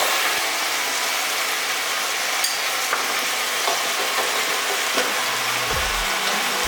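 Potato and tomato hit a hot curry pan, giving a steady loud sizzle with scraping stirs and a few clicks of the utensil, no talking.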